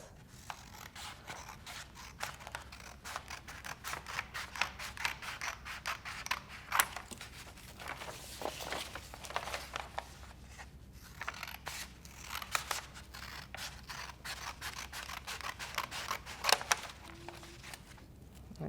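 Scissors cutting down the side of a paper bag, a long run of close, crisp snipping and crunching strokes in an uneven rhythm, quiet and alone.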